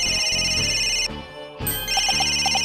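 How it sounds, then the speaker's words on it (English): A cell phone rings in the Phoenix Wright: Ace Attorney Dual Destinies game, a bright electronic ringtone melody that plays, breaks off briefly and resumes with repeated chirping tones. "Where's that ringing coming from?"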